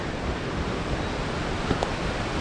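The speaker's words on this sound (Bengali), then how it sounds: "আর এইখানে একটা দারুণ সুন্দর ঝর্ণা" A mountain waterfall on the Pindari Glacier trek between Dwali and Phurkia sends out a steady, dense rushing roar with no pauses.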